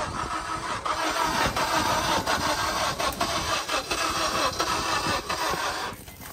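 A 2009 Honda Civic engine cranks and runs with a steady, loud mid-range rumble for several seconds, rough pulses through it and a drop-off near the end, with no talk over it.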